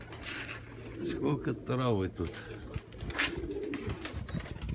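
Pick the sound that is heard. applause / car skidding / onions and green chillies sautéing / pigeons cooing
pigeons cooing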